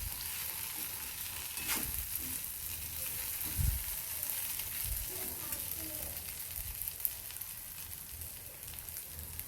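Okra being stir-fried in a pan for masala bhendi, a steady broadband sizzle with occasional stirring scrapes, close and continuous, with no talking over it.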